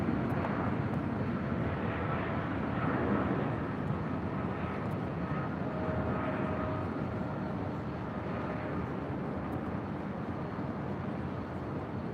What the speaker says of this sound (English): And here comes the KLM Dreamliner up here to the north side as well.